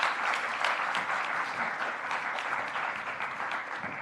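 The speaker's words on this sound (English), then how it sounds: "Can I get one more round of applause for our opening speakers?" An audience at a conference on identity-based disinformation gives a sustained round of applause for the opening speakers, a dense, even wash of clapping that tapers slightly toward the end.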